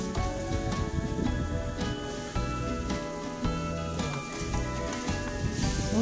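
Ginger and aromatics sizzle steadily in a hot pan while being stirred, giving a close, continuous frying crackle with occasional scraping, and nobody speaks.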